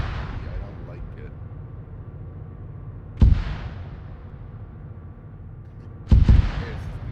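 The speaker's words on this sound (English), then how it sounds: "we just had the explosions to our right, possible IEDs or mortar fire" Two sharp, booming mortar explosions in the military simulation game ArmA 3 land about three seconds apart over a constant low vehicle rumble, with faint voices underneath.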